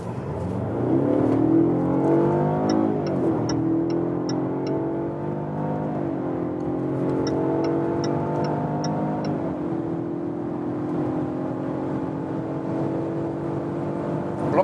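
A 2020 Jaguar XE P250 petrol rear-wheel-drive car accelerates hard through several gears from 40 to 170 km/h, pitch climbing and dropping at each shift, steady and close with no talking.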